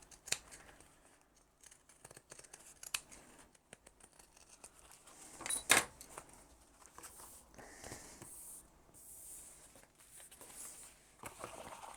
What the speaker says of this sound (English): If you haven't got pinking shears, just give it a small trim or even just little notches.